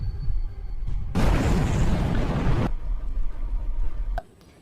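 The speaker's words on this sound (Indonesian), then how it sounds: "Bronze tewas akibat ledakan bom tersebut." A heavy, roaring blast of an explosion erupts, sustained and loud for about a second and a half, followed by rumbling aftermath and an abrupt drop to near silence.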